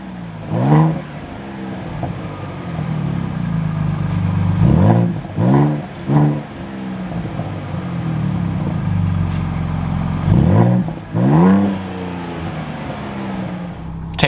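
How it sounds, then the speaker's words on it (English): A 2023 Ford Bronco Raptor engine cranks and fires up, then settles into a loud, steady idle broken by several sharp throttle blips and revs, heard close and alone. "we can go ahead and fire it up."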